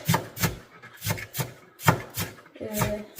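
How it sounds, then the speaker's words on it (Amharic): Rhythmic knife chops through red onion on a cutting board while preparing Ethiopian meat stew, about eight crisp, evenly spaced strikes close up with soft scraping between. "ቀይ ሽንኩርት እዚህ ጋር ከተፍ ከተፍ እያደረኩ ነው እንደምታዩት"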